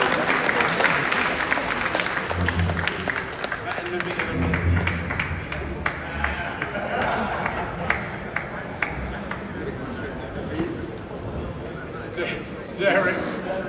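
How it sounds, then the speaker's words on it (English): Applause ripples through the room at a boxing press conference for a Wilder versus Chisora undercard, scattered claps and crowd noise mixed with a speaker's voice over a PA, moderately loud and uneven. "let's give a round of applause for Derekchisora in the room"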